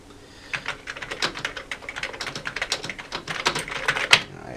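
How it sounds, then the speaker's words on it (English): Fingers type quickly on a mechanical Amiga 500 computer keyboard, producing close, crisp clacking keystrokes in an uneven, continuous rhythm with a sharper key hit near the end. "This is my favorite keyboard of all time, the Amiga 500 keyboard. This one is mechanical."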